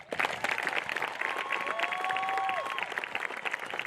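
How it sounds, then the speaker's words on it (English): Crowd applause for the graduating students at a graduation ceremony, loud sustained clapping that swells and holds, with a couple of whistles rising above it. "Friends and family, please join me in applauding these students."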